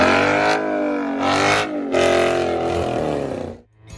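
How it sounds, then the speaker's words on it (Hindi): A muscle car V8 engine rumbles close by with a deep throaty note, rising and falling in a few rev surges over four seconds before dropping away abruptly at the end. "वही देता है वो classic V8 rumble, torquey American V8 road"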